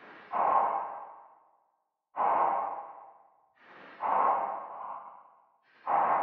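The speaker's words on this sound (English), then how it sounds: "I resampled a rim shot a couple of times and I really stretched it out." A rim shot resampled several times, stretched out, pitched down and drenched in reverb, repeats as four soft whooshing hits, each swelling and trailing away in a long tail, spaced about two seconds apart.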